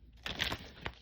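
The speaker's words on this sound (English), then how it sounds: "shuffling again for new energy" Tarot cards shuffled close up, a quick burst of papery riffling and crinkling followed by a single sharp snap, quiet and without speech.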